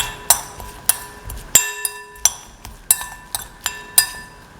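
Ginger and garlic being mixed in a bowl, heard as a series of bright, ringing clinks at a steady rhythm of about one every half second, each decaying quickly, close and fairly loud with no speech.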